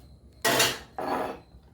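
Cooked mango pressed in a metal pan takes two firm, dull smacks about half a second apart, with no talking.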